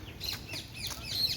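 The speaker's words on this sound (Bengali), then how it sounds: "আর নানা রকমের পাখির ডাক আছে" Birds chirp and call in a botanical garden, short bright tweets sounding at a moderate distance over a faint low background hum.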